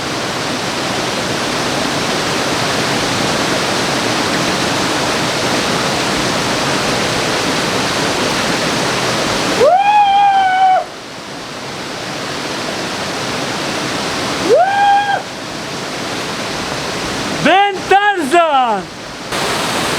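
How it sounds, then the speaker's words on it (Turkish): Steady broadband rush of a small waterfall fills the whole clip, loud and close, with a voice speaking briefly over it in a few spots. "Burası da çok güzel, ufak, güzel bir şelale."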